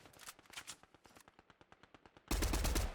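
Rapid automatic gunfire from a Fortnite zero build match, a fast rhythmic burst of evenly spaced shots, followed by a loud dense blast of fire or an explosion at the end.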